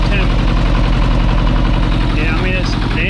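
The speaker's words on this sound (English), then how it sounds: "the engine on this thing just, I mean, it runs flawlessly" A Kubota T1600 diesel lawn tractor engine runs close by with a steady low idle chug and a constant rhythmic throb, loud and unbroken for the whole stretch.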